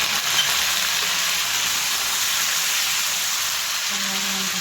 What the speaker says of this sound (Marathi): तेल गरम झालेलं तेलामध्ये आपण थोडंसं जिरं टाकणार आहे